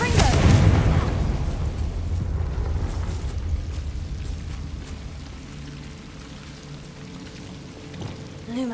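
A Confringo fire spell goes off in Hogwarts Legacy, starting with a loud, booming burst that rolls on into a long rumbling roar and crackle, slowly thinning out, with a few softer thuds near the end.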